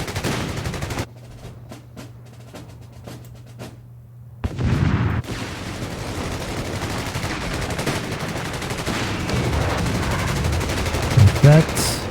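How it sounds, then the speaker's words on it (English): Artillery fire from a commander unit in the Company of Heroes 3 strategy game: a quiet stretch of light ticking gives way to a heavy boom near the middle, then dense, sustained rumbling barrage and gunfire that continues loudly to the end. "Here is the artillery from the commander unit."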